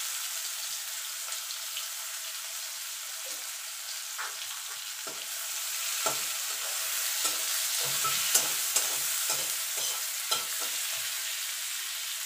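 Two medium onions frying in hot oil in a pan, a steady close sizzle running throughout with occasional soft scrapes and crackles as they are stirred.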